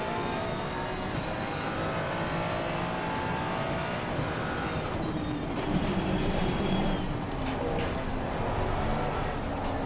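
BMW GT race car engine in Assetto Corsa Competizione, LFM race at the Nürburgring on a damp, greasy track: a steady, dense engine and road roar runs continuously throughout, with no clear gaps.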